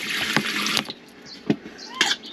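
Water splashes and runs in short bursts while a child is washed, with intermittent pours and splashes between quieter moments, close and moderately loud.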